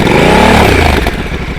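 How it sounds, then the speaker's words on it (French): A 2021 Honda Africa Twin DCT parallel-twin motorcycle engine starts and settles into a loud, close idle, a brief rising crank and rev followed by a steady throbbing burble. "on entend donc le Parallel Twin qui se met en route et qui ronronne gentiment"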